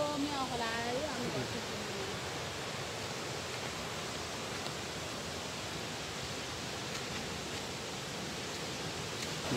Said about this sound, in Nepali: यो म्याउ खोला आयो